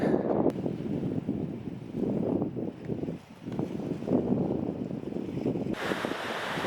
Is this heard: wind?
yes